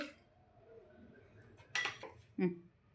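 Sabudana vada ingredients being mixed in a bowl, with a few soft clinks of a utensil against the dish and a louder scrape near the end, over a low background hum.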